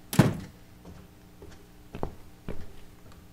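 Kitchen door in The Cat Lady video game opens with one heavy thunk at the start, followed by a few softer knocks and creaks against a quiet, dim room tone.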